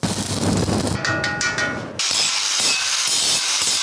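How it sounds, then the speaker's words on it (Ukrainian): In a workshop making stoves from used gas cylinders, harsh angle-grinder noise gives way to a few ringing metallic hammer strikes, then rough grinding returns with a pulsing rhythm, close and loud. "Болгарка, молоток і зварювальний апарат практично не замовкають."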